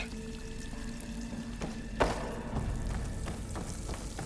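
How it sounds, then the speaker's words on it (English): Water pours and runs through a cave in Horizon Forbidden West, a continuous rushing flow with a single sharp thump partway through and no talk. "A lot of water in here. There must be runoff from the peaks above."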